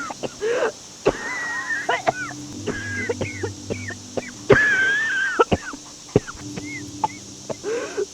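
Female character coughing in a Skyrim quest, a dramatic voice-acted series of coughs and throaty gasps over quiet game ambience, close and expressive with several bursts spread across the stretch.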